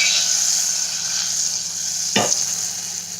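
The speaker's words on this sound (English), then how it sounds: "I'm just going to melt my butter slowly." Butter melting slowly in a pan over gentle heat for a cauliflower cheese sauce, giving a soft, steady sizzle with a brief scrape or stir partway through, no voices.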